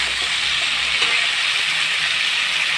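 Eggplant and tomato frying in a pan of oil, giving a steady, close hiss that holds even throughout with no voices over it.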